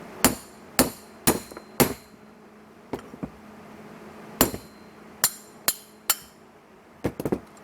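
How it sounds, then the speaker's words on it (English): Sharp metallic hammer strikes ring out as a metal rod is hammered loose from a Subaru intake during a tumble generator valve delete, mostly single blows about half a second apart, with a few quicker taps near the end. "then carefully just hammer that down"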